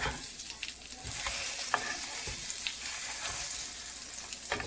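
Shami kebabs frying in a pan give a steady close sizzle, with scattered scraping and stirring sounds and light crackles over the hiss, and no voices.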